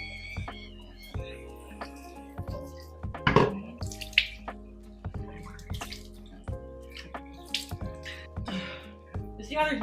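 Water splashes and drips at a bathroom sink as a face is washed with cupped hands, in irregular wet bursts close by, while someone talks over the washing.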